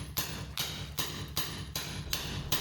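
A hammer strikes a chisel during a bathroom renovation, cutting around old jacuzzi pipe connections. Sharp, evenly spaced blows land about every 0.4 seconds, each ringing over a steady low background.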